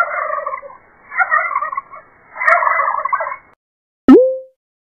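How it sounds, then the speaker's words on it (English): A turkey gobbles in rapid warbling bursts, three rolling calls close by, followed by a single sharp higher note. "Turkey."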